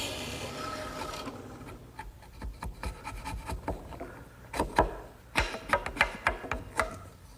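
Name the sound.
drill press roughing out a mortise with a 1-inch Forstner bit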